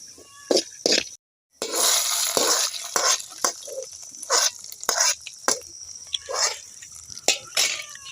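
Hot ghee with fried cashews poured into avul pongal made from mappillai samba rice, heard as bursts of sizzling and stirring clatter with a short gap, while someone talks over it.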